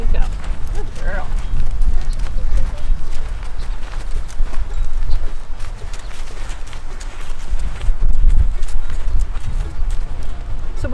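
A horse named Casey walks along with a young rider on its back, its hooves clip-clopping in a loud, steady rhythm close by while people talk over the hoofbeats.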